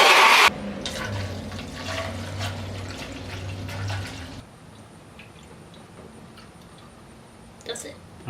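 Liquid pours and gurgles into the engine block of a 1965 Ford Falcon, a loud, splashy flow that steadies and then stops, leaving a quiet room.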